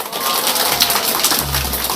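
An audience at a high school reading debate festival breaks into applause, a dense, steady patter of many hands clapping with no voices over it.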